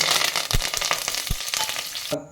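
Curry leaves hit hot oil for a chicken curry, bursting into a loud, dense crackling sizzle with a couple of heavier pops, cutting off abruptly at the end.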